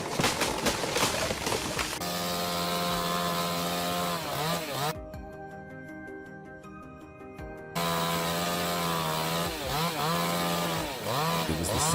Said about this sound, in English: It was the satisfying sound of a tree falling.